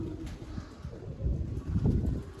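Pigeons cooing softly in a loft at feeding and watering time, low murmuring calls rising and falling over a breezy background, with no voices.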